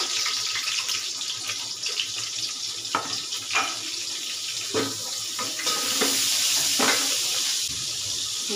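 A spoonful of butter sizzles in hot white oil in a pan, a continuous hissing fry close by with a few soft scrapes and taps.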